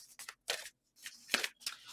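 Tarot cards being shuffled close up, a rapid series of short papery riffles and slaps in quick bursts separated by brief pauses.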